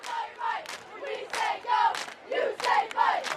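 Student section crowd at a high school football game shouts a rhythmic cheer in repeated bursts, the chanting voices rising and falling loud and close across the stands.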